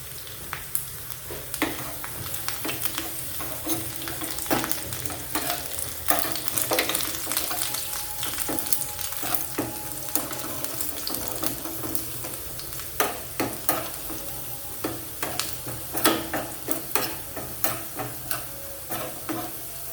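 Garlic sizzles steadily in hot oil for vegetable fried rice while a utensil stirs it, the frying hiss constant beneath repeated scraping and clicking strokes, close and moderately loud with no talking.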